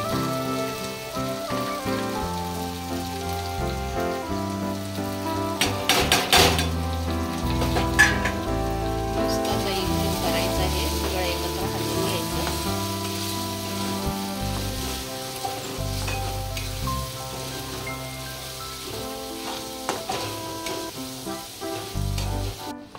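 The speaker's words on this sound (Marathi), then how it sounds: "असं टोमॅटो भाजून घेऊया। सगळे मसाले टाकून घेऊया।" Chopped tomatoes and spices for a boiled egg masala sizzle and crackle in hot oil with onions in a pan, a continuous close frying hiss with occasional stirring scrapes and no voices.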